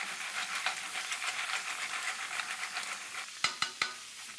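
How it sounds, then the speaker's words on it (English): Clams cooking with butter in a pan give off a steady, close sizzle and hiss throughout, ending with a few sharp metallic clinks of a utensil against the pan. "Just gonna let those clams saute."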